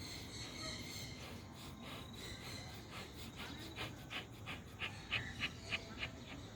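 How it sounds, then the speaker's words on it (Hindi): Rapid rhythmic yoga breathing with quick inhales and exhales in the style of bhastrika or kapalbhati pranayama, even puffs at close range that grow louder and more forceful toward the end, with no talking. "इसमें कुंभक नहीं होगा, खाली सांस लेना और छोड़ना होगा।"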